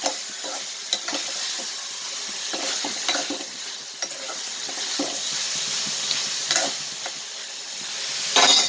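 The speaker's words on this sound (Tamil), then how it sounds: "கருவாடு வதக்குறேன்." Dried cod fish is stir-fried in a pan with a steady close sizzle, broken by regular scraping and stirring strokes against the metal.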